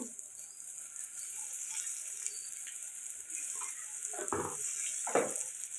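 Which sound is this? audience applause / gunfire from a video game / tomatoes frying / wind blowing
tomatoes frying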